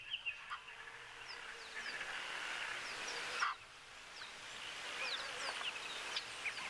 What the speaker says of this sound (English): Some sandgrouse calling as well at the moment.